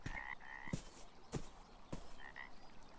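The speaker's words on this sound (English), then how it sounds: "Oh, a frog." A frog croaks three times in loud, evenly spaced calls over a constant outdoor background hiss, with faint higher chirps in between.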